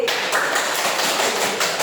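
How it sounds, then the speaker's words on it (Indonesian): A class of students claps for a group at the front of the room, a short burst of quick, fairly faint hand claps lasting under two seconds. "tepuk tangan buat kelompok B"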